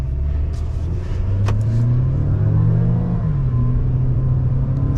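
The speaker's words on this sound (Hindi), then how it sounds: "अब इस गाड़ी को मैं ड्राइव करने वाला हूँ।" A front-wheel-drive Tata Safari hums close by on a village road, rising in pitch as it accelerates and then settling, a steady road rumble underneath throughout.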